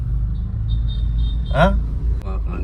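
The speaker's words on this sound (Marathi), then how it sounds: "आता चालू झाली गाडी" A newly started car engine idles with a steady low rumble close by, while a person briefly speaks over it midway.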